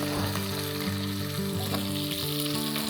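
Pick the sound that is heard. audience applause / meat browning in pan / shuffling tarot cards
meat browning in pan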